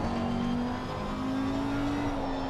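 An Audi race car in a racing video game drones at a steady high-rev engine tone, loud and continuous with a slight pitch rise midway.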